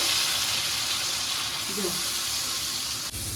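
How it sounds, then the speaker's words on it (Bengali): Spice paste with a little water sautés in a pan for a Bengali katla fish curry with panch phoron and young pointed gourd, giving a steady close hiss and bubbling sizzle throughout, with a brief stirring scrape partway through. "ভালো করে মশলাটাকে কষবো"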